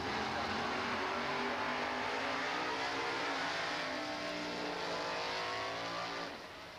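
A drag racing car's engine roars steadily at high revs during Super Pro time runs at a bracket race, loud and sustained, with rising harmonic sweeps as it accelerates, then eases off near the end.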